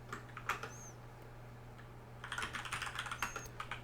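Fingers type on a computer keyboard while coding, a few scattered keystrokes first, then a quicker run of soft clicks after a pause, close and quiet over a low steady hum.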